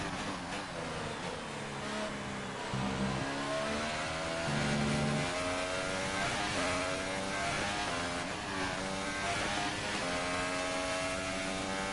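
Racing car engine from F1 2018, a McLaren Formula 1 car, loud and sustained with a rising and falling pitch sweep as it passes, with other engines droning beneath and no talk.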